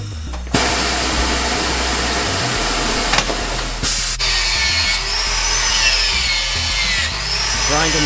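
A power grinder scours rust off the rear wheel of an XR 80 motorcycle, giving a loud, harsh, continuous whine that rises and shifts in pitch as it bites into the metal.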